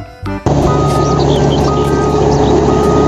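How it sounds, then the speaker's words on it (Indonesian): Reversing beeps from a toy road roller truck repeat steadily and loudly over a continuous electronic tone and hum, starting after a brief burst of other sound at the beginning. "yang ini mobil salender."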